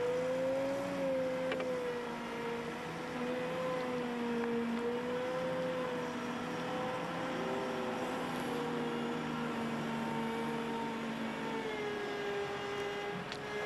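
Volvo wheel loader with hydrostatic transmission accelerating forward, its diesel engine a steady droning whine that rises and wavers in pitch, heard continuously at moderate distance.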